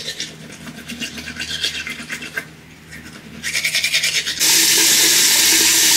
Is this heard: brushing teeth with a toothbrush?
yes